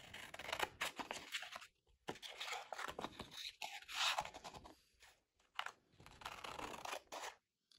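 Scissors snip paper into strips in quiet, close bursts of crisp cutting and rustling, pausing briefly between cuts.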